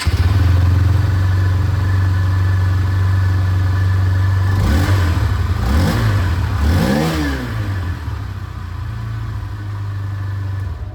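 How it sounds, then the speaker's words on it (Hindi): A 160cc motorcycle idles with a steady low exhaust throb, then the rider blips the throttle in three quick revs that rise and fall before it settles back to idle, loud and close. "इंजन का जो एग्जॉस्ट साउंड है वो भी मैं आप लोगों को एक बार सुना देता हूँ।"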